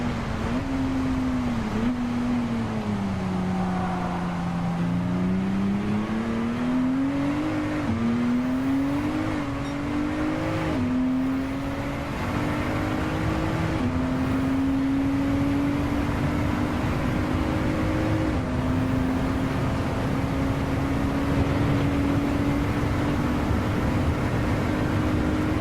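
A race car in Gran Turismo 7 at Le Mans drones loudly and steadily, its engine pitch gliding up and down as it lifts and coasts into braking zones, with no voices over it.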